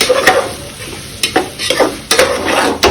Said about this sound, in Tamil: ஸ்மெல் போகிற வரைக்கும் கொஞ்சம் நல்லா எண்ணெயில் வதங்கட்டும்